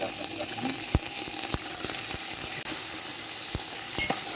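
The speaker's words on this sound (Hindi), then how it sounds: "चिकन को अच्छी तरह से फ्राई कर लेंगे" Chicken pieces fry with well-browned onions in a pot, a continuous close sizzle punctuated by sharp scraping clicks of a spoon stirring at irregular intervals.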